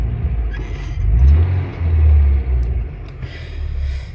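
A vehicle engine runs with a low rumbling idle, swelling twice as if revved, close and fairly loud, with a few faint clicks over it.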